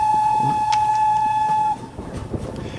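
A steady, loud steam whistle sounds for nearly two seconds, then cuts off, leaving the rumble and clatter of a moving train.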